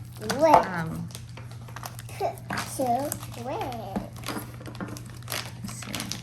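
Plastic packaging around small letter crayon cards crinkles and rustles as it is pulled open, in irregular close bursts, while a young child babbles and a voice speaks.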